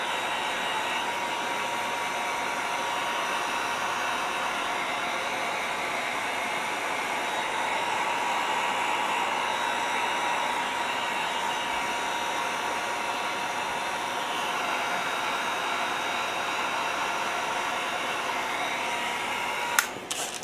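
A hair dryer blows steadily on wet paint on a scale model part, a continuous close whooshing hiss with an even motor hum, running alone before a brief click at the end.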